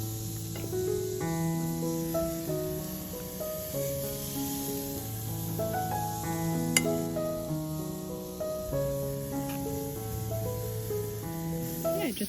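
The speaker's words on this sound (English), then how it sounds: "I just put them all on the grill" Vegetables sizzle on an outdoor grill, a steady hiss running underneath prominent melodic background music.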